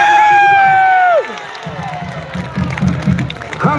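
A crowd at a traditional performance event cheers and shouts after a sliding tonal sound fades out, the rough, lively noise of many voices swelling toward the end.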